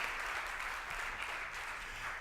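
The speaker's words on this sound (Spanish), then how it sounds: "Le da ese aplauso" Congregation applauding during a church service, a soft, fairly distant patter of many hands clapping steadily throughout.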